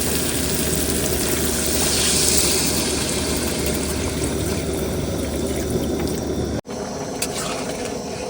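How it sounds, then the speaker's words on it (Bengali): Water is poured into crab curry simmering in a pan on a boat in the Sundarbans, a steady hissing pour over a constant low engine hum that cuts off abruptly near the end. "এবার জল দিয়ে দেবো"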